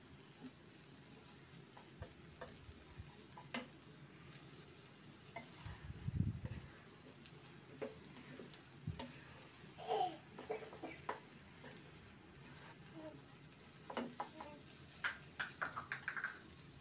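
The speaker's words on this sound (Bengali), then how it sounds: "শাক আর ডাল একসঙ্গে আমি আরও কিছুক্ষণ ভেজে নেব।" Malabar spinach and lentils frying together in a pan while being stirred, a soft steady sizzle with occasional scraping clinks of the spatula and a few louder knocks, heard alone without talk.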